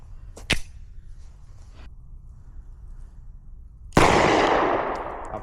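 A Kimber Micro9 pistol is fired at a shooting range: a sharp crack early on, then a much louder shot with a long ringing decay, no voices during the shots.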